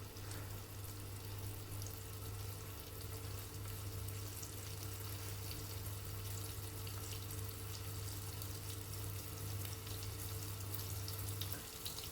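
Alsatian fleischnacka, rolled pasta-and-meat spirals, frying in a pan with a steady, even sizzle that runs unbroken and fairly close, with a low constant hum beneath it and no voices.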